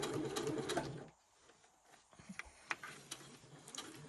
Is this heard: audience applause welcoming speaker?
no